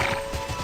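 Hooves of a horse being ridden in the Tera video game clop quickly and evenly in a brief, close, moderately loud burst, with no talking over it.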